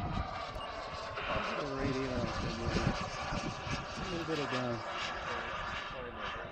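A steady, buzzing engine drone of a radio-controlled F-104 model jet flying nearby on its maiden flight, with people talking over it throughout.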